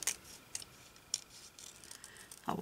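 Scissors snipping paper while cutting out a paper doll, a few faint, sparse, crisp clicks spaced irregularly in a quiet room.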